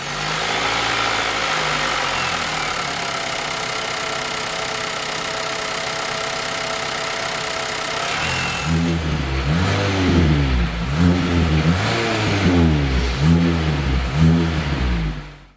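A 2023 Nissan Altima SR's 2.0-liter turbocharged four-cylinder engine idles with a smooth hum, then revs up repeatedly in rising and falling bursts, close and loud.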